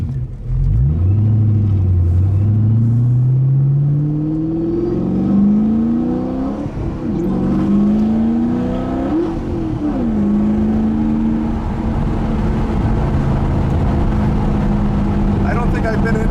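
A 2006 Ford GT with a 5.4-litre supercharged V8 pulls hard in third gear, its engine note rising and falling through several strong revving sweeps, loud and close, with voices talking over it.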